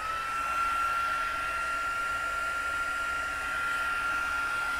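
A heat tool blows steadily and close by, setting glittery embossing powder on a mermaid card. The hot-air roar is a continuous whoosh with a thin steady whine and keeps an even level throughout.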